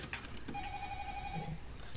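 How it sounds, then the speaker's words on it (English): A video-game telephone rings with a steady electronic tone, repeating in short even pulses for about a second at moderate loudness over a low background hum. "time for phone call"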